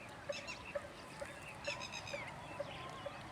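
Red-wattled lapwings and sparrows calling in open rural countryside: faint, evenly spaced repeated calls, about two per second, with a few higher chirps and whistles mixed in at a distance.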